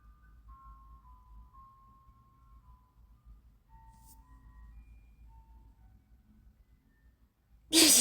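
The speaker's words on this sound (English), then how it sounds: "I'm the fuck done with this ice cream truck, yo." An ice cream truck's jingle plays outside, a thin tinkling melody drifting faint and distant over low background hum, before a sudden loud noise cuts in at the end.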